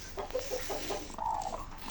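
A broody chicken gives a few soft, short clucks close by, a quiet run of low murmuring notes followed by a slightly longer drawn-out cluck.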